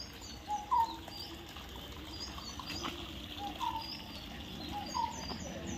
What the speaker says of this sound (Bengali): সব সময় পাখির ডাক হচ্ছে।